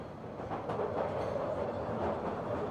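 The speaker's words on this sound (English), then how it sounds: "Bye-bye, train." A London-area metro train pulls away from the station platform, a steady rumbling roll with faint clickety-clack at a moderate distance, no talking over it.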